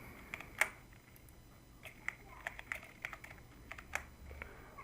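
A password is typed on a computer keyboard in a short, uneven burst of light key clicks, close and fairly quiet, with pauses between clusters of keystrokes.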